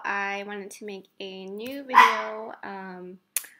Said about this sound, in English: Excuse my dog. He keeps barking at a chuchara outside every time it makes noise.